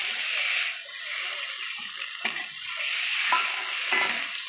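A paste of ginger, green chilli and garlic fries in a pan with a soft hiss and intermittent scraping of stirring, fairly quiet with gentle, uneven bursts; no speech.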